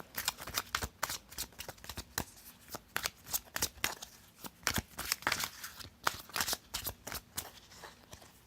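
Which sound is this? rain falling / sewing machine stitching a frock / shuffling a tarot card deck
shuffling a tarot card deck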